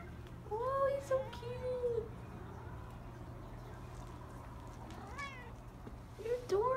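A small, chubby kitten gives several high, wavering meows, a cluster near the start and more toward the end, over a steady low background hum.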